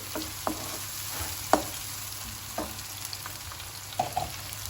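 Onions fry in a pan with salt and chili paste for prawn sambal, a soft continuous sizzle broken by a few sharp clicks of a spoon or spatula against the pan.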